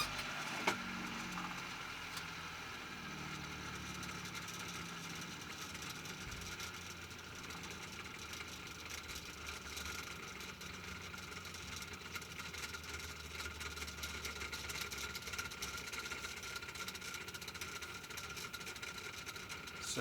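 A spinning generator in a physics lab demonstration runs steadily for the whole stretch, giving a continuous mid-pitched mechanical hum and whir with a brief rising spin-up at the start and no talking.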